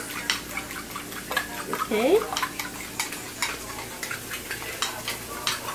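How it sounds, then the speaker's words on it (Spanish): Two eggs whisked in a bowl: a quick, rhythmic clatter of utensil strokes, close and fairly loud, with a brief voice and a few light clinks of kitchenware. "Lo vamos a batir, dos huevitos."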